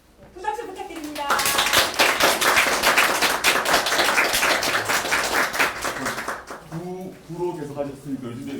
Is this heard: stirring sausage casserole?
no